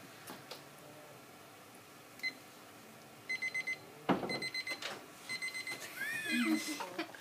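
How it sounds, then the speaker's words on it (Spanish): A digital alarm clock beeps in short repeated bursts, with a few clicks and rustles around it and a brief higher warbling tone near the end. "El despertador suena."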